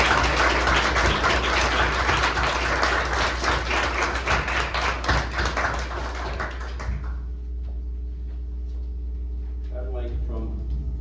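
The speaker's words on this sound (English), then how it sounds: "I would first like to take a moment for a round of applause for our United Soul members" An audience at a university panel applauds the panel members, dense clapping for about seven seconds that fades out over a steady low hum before a voice begins to speak.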